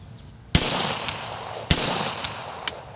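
A pistol firing .40 S&W rounds at targets outdoors, two sharp loud shots about a second apart, each with a ringing tail, followed by a fainter metallic ping as a round strikes a target.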